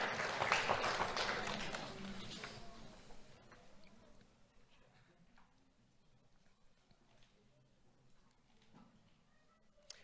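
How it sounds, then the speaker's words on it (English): Audience applause at an awards ceremony, loud and dense at first, then thinning to scattered claps that fade over several seconds. "Round of applause for Montserrat Rodriguez."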